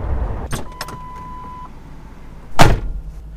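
A car pulls up outside a Pep Boys store, with faint idling, a few short clicks, a steady electronic chime and then one sharp, close door thud.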